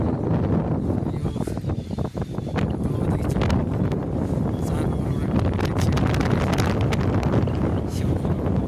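Strong wind sweeps across an apple orchard at Ghya Thangka, with steady, dense roaring gusts buffeting the microphone without pause for the whole stretch.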